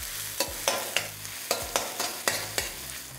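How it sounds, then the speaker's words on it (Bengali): Thinly sliced onions fry in hot oil for a fish-head chhyachra, with a steady low sizzle broken by regular close scrapes of a spatula stirring the pan. No one speaks. "আর পেঁয়াজটা যতক্ষণ ভাজা হচ্ছে"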